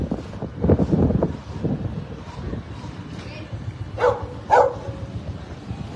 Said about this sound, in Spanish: Y por eso ladra a los carros, a las motos.